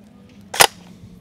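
Browning Automatic Rifle action being cocked and closed, one sharp metallic clack, loud and close, in an otherwise quiet moment.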